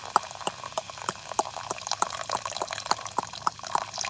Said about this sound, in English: Here's my ASMR. Pouring water over ice with